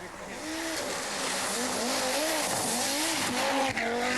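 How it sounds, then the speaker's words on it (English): Audi Quattro Group B rally car racing flat out on a snowy Swedish Rally stage in 1985, its engine note rising and falling through the gears with tyre scrabble, loud and continuous throughout. "Eklund too has had his Quattro sorted and appears to be going much faster, managing to beat Salonen on this 30-kilometre stage."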